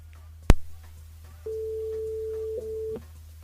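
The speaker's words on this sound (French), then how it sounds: "Audrey et puis on appelle Sonia" During a live radio show, a telephone line clicks once, then gives a single long electronic ringing tone with a brief break near the end, clear and isolated over a low hum.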